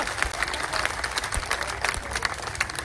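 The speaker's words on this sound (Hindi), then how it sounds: "तालियां।" Crowd applause at a mahapanchayat village assembly in Mehram Nagar, steady dense clapping through the whole stretch with a few sharper claps standing out, fairly close and without clear talk over it.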